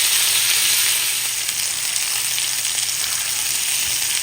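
A piece of steak sizzling in a hot frying pan, a loud, dense, continuous hiss with no pauses, close up and alone without talk.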